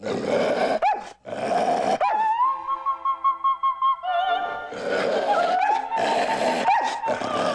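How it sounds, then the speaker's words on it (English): A dog growls and makes drawn-out, wavering vocal sounds, almost like talking, with rough broadband snarls before and after a steadier tonal stretch; close and loud. "He'll growl and bark and show his teeth."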